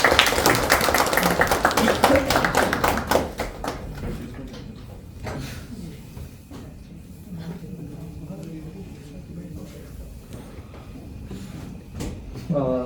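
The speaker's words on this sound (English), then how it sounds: "Please make a huge round of applause." Audience applause at a Toastmasters club meeting, a dense burst of clapping for the first few seconds that then thins and fades into room murmur.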